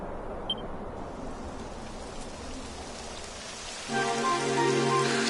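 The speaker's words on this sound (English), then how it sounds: "Typical. It would have to go and start raining, wouldn't it?" Light rain in Dragon Quest patters steadily, then a louder layer of rainfall with a tonal hum joins near the end; no one speaks.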